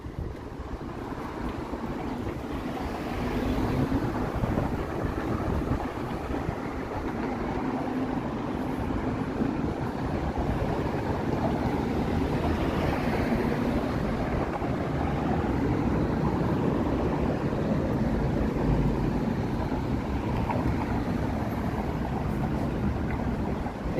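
Strong, steady wind buffets the microphone at the Toronto waterfront downtown, a loud continuous roar with no talking.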